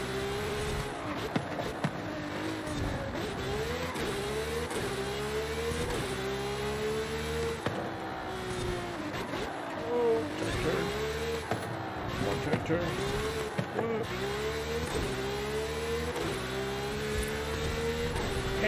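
A car engine revs and climbs through its gears while racing in the video game Forza Horizon 5, with a steady loud drone and repeated rising pitch sweeps as it shifts. Someone talks over it.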